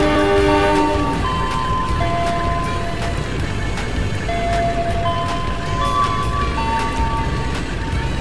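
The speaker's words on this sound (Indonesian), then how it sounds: "ini adalah suara bel stasiun terbarunya" A soft multi-tone station bell in the Roblox Ro-Scale train game chimes as brief sustained notes that repeat across the scene, with a steady rumbling train and ambient noise underneath.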